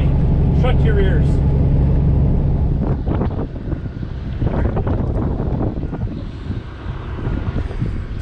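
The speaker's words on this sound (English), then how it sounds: "It's a bit of a windy day out here." Wind buffeting a microphone outdoors on a windy day at a truck stop, a loud continuous low rumble that gusts unevenly throughout, with a brief tonal squeal near the start.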